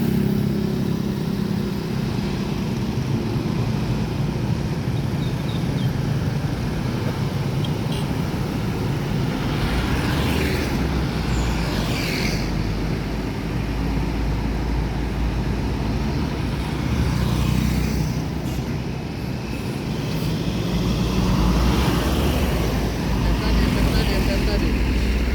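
New Jetbus 5 coach buses passing on a road, a steady loud roar of traffic with engine swells and passing whooshes around the middle and end, constant and close.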